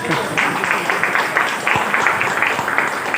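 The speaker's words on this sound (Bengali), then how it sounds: "আচ্ছা বিশ্বনাথ দা জোরে জোরদার হাততালি হয়ে যাবে।" Loud applause from a seminar audience at a large motivational event, dense steady clapping sustained throughout with no talking over it.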